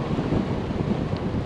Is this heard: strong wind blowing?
yes